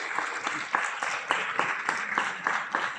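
Audience applauding for children performing classical dance at a Telugu community cultural event, a steady burst of clapping that swells and pulses throughout, fairly close and unbroken, with no voices over it.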